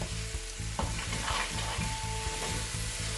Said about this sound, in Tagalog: Then we have to stir like this.